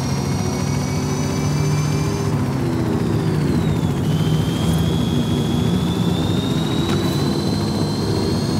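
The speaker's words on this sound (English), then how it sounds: "Follow the chopper." Helicopter in Forza Horizon 5 flying overhead, a loud continuous turbine whine with a steady low engine roar that shifts pitch as it passes, alone with no talk.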